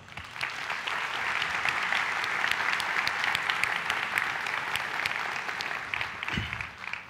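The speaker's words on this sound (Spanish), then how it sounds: "A ellos yo quiero, porque creo que se lo merecen, darles un aplauso." Sustained audience applause at a business talk, dense and steady clapping from a large crowd throughout, fairly close and filling the room.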